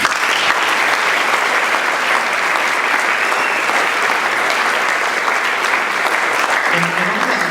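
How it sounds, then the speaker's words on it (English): Audience applause at a mastermind seminar gathering: loud, dense, continuous clapping from a crowd held at an even level throughout, with a voice emerging faintly near the end. "applaud for the people around you right now"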